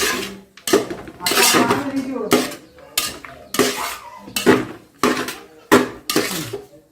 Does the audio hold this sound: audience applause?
no